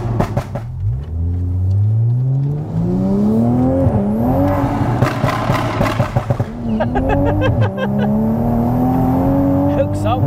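Tuned 510 bhp Toyota Supra MK5 running a switchable ECU map, pulling hard through several gears: engine note climbs steeply, drops at each shift, then rises again, loud and close, with occasional talk over it.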